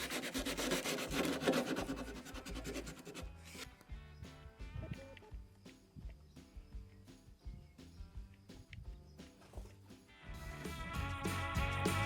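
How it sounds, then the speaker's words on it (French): Folded sandpaper, taken from a power sander, rubs by hand along the legs of a vintage wooden nightstand, producing rapid rhythmic scraping strokes, loud and close, with quieter, more spaced rubs in the middle stretch. "je vais prendre mon abrasif qu'il y avait sur ma ponceuse et je vais juste le plier pour essayer d'arriver à passer dans les coins"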